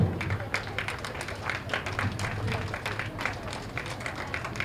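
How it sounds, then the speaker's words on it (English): Children at a school event in Tenali receive a round of applause from a crowd, a steady patter of clapping with a low hum and murmur underneath, lasting throughout. "give them a big round of applause first of all"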